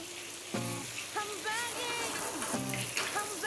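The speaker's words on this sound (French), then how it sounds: "Et là je pose délicatement ma polenta dans le beurre mousseux." Polenta pieces frying in foaming butter in a pan, a steady close sizzle with soft crackle, while a voice talks over it.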